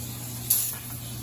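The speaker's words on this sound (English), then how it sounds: "Oh, here's our brake clean. This is where this is gonna come into play. I'm gonna clean everything down." Brake cleaner sprayed onto the rear brakes of a 2009 Ford Escape, one short hissing burst that starts abruptly and tapers off, close by, over a steady hum.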